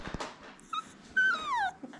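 A Rottweiler puppy gives a few high, thin whimpers close by, a short squeak followed by a longer falling whine over quiet background.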